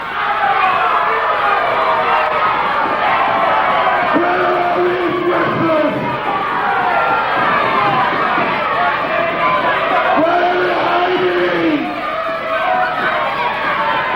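Large wrestling arena crowd at a wrestling bout, booing and shouting in a loud, continuous roar after a knockout, with bellowing voices rising and falling throughout.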